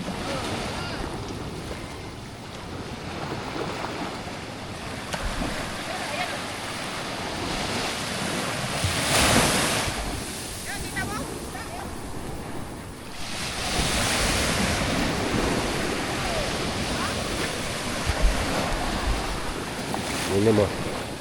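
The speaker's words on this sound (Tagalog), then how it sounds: "Malakas ang alon." Strong ocean waves surging and washing in two big swells, with steady wind rumbling across the microphone and faint voices in the background.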